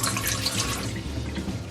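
Water is poured into a pot for a kombucha batch, a brief splashing, gushing stream heard close up with no talk.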